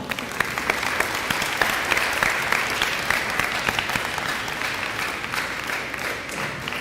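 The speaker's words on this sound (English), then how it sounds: "let's give them one more round of applause" Sustained applause from a large audience at a spring sports awards ceremony, steady and dense clapping filling the room for several seconds without a break.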